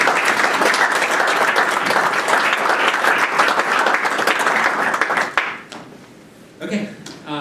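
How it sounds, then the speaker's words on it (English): Loud, sustained applause from an audience at a county commissioners' regular meeting fills the room for several seconds, then cuts off into quiet with a few scattered sounds. "let's give them a round of applause"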